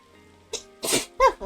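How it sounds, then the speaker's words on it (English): A video game character from Xenoblade Chronicles 3 lets out a short sneeze, a brief loud burst after a quiet lead-in, heard alone without speech. "Ugh, why am I sneezing?"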